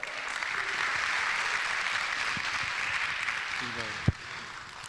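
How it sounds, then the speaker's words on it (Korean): Steady applause of encouragement from a church congregation welcoming a pastor to preach, a dense even wash of clapping sustained throughout, with a voice briefly audible near the end. "우리 한번 힘차게 격려의 박수로 맞이할까요?"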